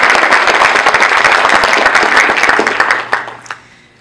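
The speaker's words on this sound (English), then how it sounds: "So give a round of applause." A loud round of audience applause at a university pre-debate event, dense sharp claps that sustain, then thin out to a few scattered final claps.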